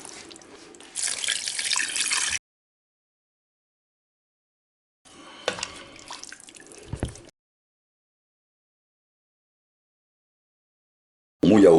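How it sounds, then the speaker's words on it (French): Cold water poured into a pot over fish for a fish soup, coming in two bursts of splashing, trickling flow separated by silence, with a brief louder sound at the very end. "On va mouiller à hauteur avec de l'eau froide"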